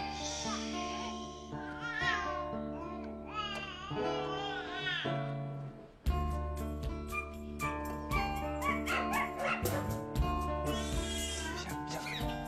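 A pet dog gives howling, whining vocalizations over loud music played on a French children's TV show set, the animal's yelps blending with melodic tones and a strong beat throughout.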